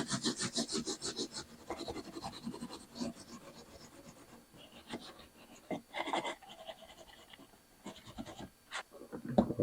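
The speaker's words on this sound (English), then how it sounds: "Don't see any other choice but just to scrub it." Rough scrubbing of orange biofilm off a dishwasher surface, with irregular rasping strokes in close, quiet bursts and short pauses between them.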